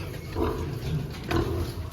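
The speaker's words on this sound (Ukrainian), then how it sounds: "Трошки свині щось свариться десь один на одного" Pigs squabbling in a pigsty heated by a wood stove: a couple of close, rough grunts and squeals over a continuous noisy barn background.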